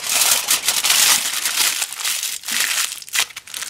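Paper or foil crinkles as it is crumpled tightly around a ping-pong ball, a close, continuous rustling and crackling with uneven bursts over a few seconds.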